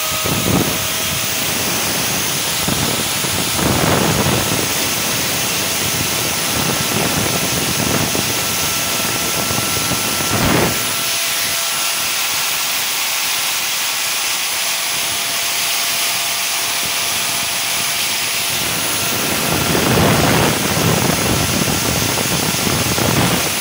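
A rewound electric motor with its armature kept, plugged in for a bench test, runs with a steady high whine and hum, surging and easing in several loud swells across the clip with no talk.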